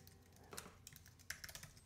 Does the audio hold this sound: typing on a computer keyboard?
yes